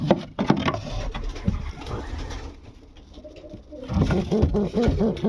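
Pigeons coo in a pigeon loft, with soft rhythmic cooing calls rising and falling close by, a quieter lull in the middle, then repeated coos returning strongly, with wooden rustling and no talk.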